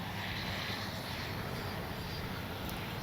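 Steady broadband whoosh of an FMS Avanti S 70mm electric ducted-fan RC jet on its landing approach with flaps down in gusty wind, a continuous distant airy roar with a faint high whine, no voices.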